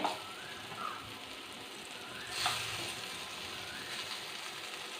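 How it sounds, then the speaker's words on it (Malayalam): Brinjal pieces fry in a pan with a steady, soft sizzle that stays even throughout, with brief louder crackles and a stirring scrape near the middle. "അതുകൊണ്ടാണ് ഇത് വറുത്തെടുക്കുന്നത്"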